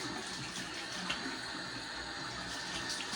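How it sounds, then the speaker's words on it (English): Running water splashes steadily while a face is rinsed during a shave, a close, even rush of water with small splashes throughout. "All right, I'm gonna rinse the face."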